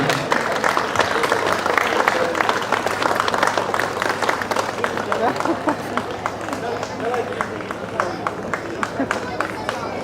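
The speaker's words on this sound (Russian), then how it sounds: "громче аплодисменты." A festival crowd at a Sabantuy concert claps loudly and continuously for ten seconds, a dense, even roar of many hands with faint voices and crowd murmur underneath.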